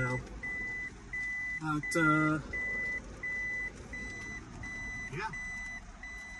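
A steady series of evenly spaced electronic beeps from a 2009 Toyota Prius Touring Edition reversing sensor repeats throughout, with a brief spoken remark and a low background hum.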